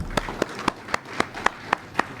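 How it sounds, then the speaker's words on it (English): Audience at a university talk welcoming a speaker, heard as a short run of distinct, evenly spaced claps at moderate level, roughly four per second, rather than a full crowd roar. "Everyone, please give a big round of applause to Mr."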